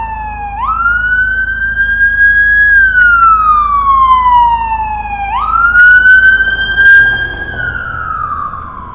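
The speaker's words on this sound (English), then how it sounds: "Let's see where this emergency vehicle is going." Loud wailing emergency vehicle siren passing on a downtown Toronto street, rising and falling in long sweeps with a brief yelp-like shift, close and dominant over faint traffic rumble.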